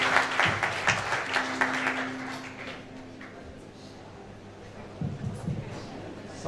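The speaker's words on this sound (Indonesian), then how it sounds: "Tepuk tangan bagi Tuhan Yesus" Audience applause at a church Christmas service, a broad wash of many hands clapping that fades out over a few seconds, then a short spatter of claps again.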